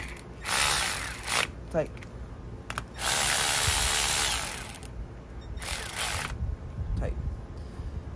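Ratchet wrench tightening valve body bolts on a Subaru transmission during a repair for codes P2764 and P2763, giving several short bursts of close, crisp clicking separated by pauses, with a brief spoken remark partway through.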